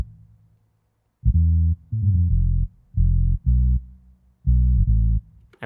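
Bass line from a Casio keyboard: sustained synthetic low tones in short held blocks with gaps between, a faint tone at the start, no voices.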